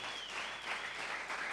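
A church congregation applauding during a sermon, a brief, fairly soft burst of clapping from the crowd.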